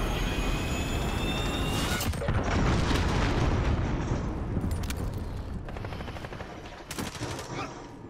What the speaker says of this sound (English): cruise missile got me